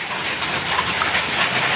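Heavy rain pours during a typhoon beside a small creek at risk of flooding, a dense, even hiss of downpour that stays loud and unbroken throughout.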